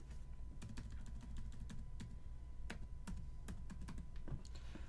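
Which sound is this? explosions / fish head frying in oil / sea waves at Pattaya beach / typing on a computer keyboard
typing on a computer keyboard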